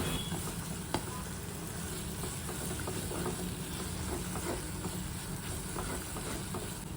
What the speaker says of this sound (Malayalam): അപ്പോൾ ഈ പേസ്റ്റ് നമുക്ക് നന്നായിട്ടൊന്ന് വഴണ്ട് കിട്ടണം